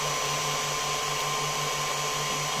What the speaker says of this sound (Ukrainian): В цілому тепле, тепле повітря йде.